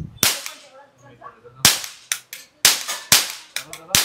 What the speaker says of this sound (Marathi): अशी ही कडक गन वाजते